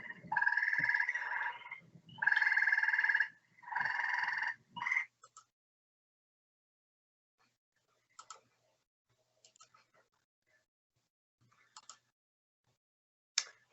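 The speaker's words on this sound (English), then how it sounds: "So that was a gray tree frog." Gray tree frog calling, three or four loud, rapid trilling bursts close by, each lasting about a second, followed by quiet with only scattered faint clicks.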